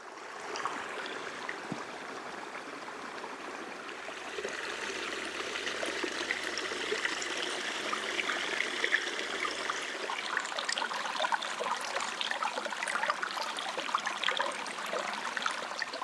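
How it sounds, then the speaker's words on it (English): Spring-fed creek flowing through a washed-out ravine, a steady close trickle and burble of water that grows slightly louder and busier partway through, with no talking. "So out here where you think there's nothing, there's springs flowing."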